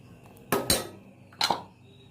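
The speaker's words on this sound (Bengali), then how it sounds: "কাস্টার্ডটা দিয়ে নাড়তে হবে যাতে তলায় না লাগে।" A spoon stirring dry fruit custard in a cooking pan, giving two sharp metallic clatters against the pan separated by near-quiet, close and distinct.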